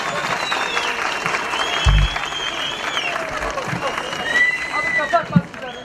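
At an outdoor Newroz celebration, a crowd claps and cheers to welcome a performer to the stage, with scattered shouts and a few thumps over the dense applause.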